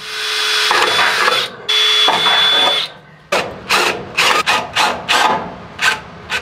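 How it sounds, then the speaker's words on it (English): A power driver with a magnetic bit drives a mounting screw in a metal shop, giving two sustained motor whirs and then a run of short bursts as the screw seats, close and loud. "We got the magnetic driver bit here to try to help us out"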